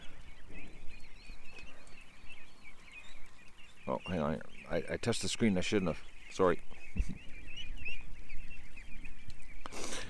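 Ducks quack and call in loud, excited bursts, clustered in the middle of the stretch, with someone talking close by throughout.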